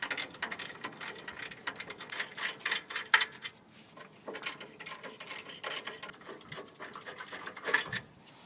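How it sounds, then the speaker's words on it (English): A ratchet with a 17mm socket works on the rear brake caliper bracket bolts of a 1997 Mitsubishi Montero/Pajero, giving rapid, close clicking in uneven bursts with brief pauses between strokes. "To finish removing these bolts, we're going to use the ratchet with the 17mm socket."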